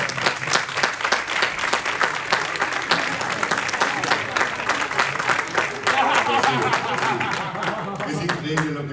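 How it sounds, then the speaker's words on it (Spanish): Audience applause at a live event, sharp individual claps rising into sustained clapping over several seconds, with voices talking through the later part. "nada menos que un buen aplauso es lo que merece"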